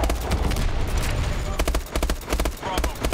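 Gunfire in the video game Call of Duty: Advanced Warfare, heard as rapid bursts of sharp shots in quick clusters over a loud, busy game background.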